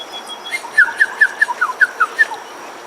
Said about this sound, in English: Getting heckled by birds.